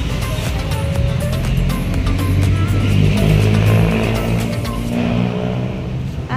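Cars rush past on a highway outside the LTO office, a loud continuous drone of engines and tyres close by with passing vehicles swelling and fading.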